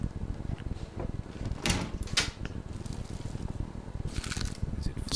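Searching through a drawer in the survival video game The Long Dark, faint rustling and clattering rummage sounds with a few short louder scrapes, quiet and continuous under a low background.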